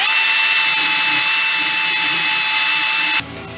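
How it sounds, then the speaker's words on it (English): Dynafile belt sander fitted with 100 grit sandpaper grinding down a part on a Mercedes SL55 AMG Vario roof, a loud steady high whine with bright tonal ringing that cuts off abruptly near the end. "going to use a Dynafile. I've got about 100 grit sandpaper on here"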